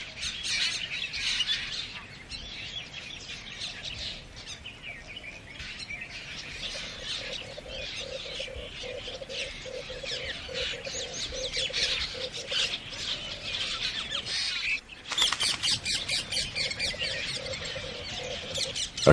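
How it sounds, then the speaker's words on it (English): Rose-ringed parakeets squawk and chatter harshly at a forest water hole, a dense, continuous flock of shrill calls with a louder burst near the end, no voices present. "most of the other birds, like the rose-ringed parakeets, have to come down to the water's edge"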